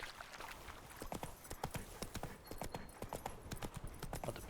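Rapid rhythmic hoofbeats of a galloping horse in The Witcher 3: The Wild Hunt, clear and steady, with a faint ambient background.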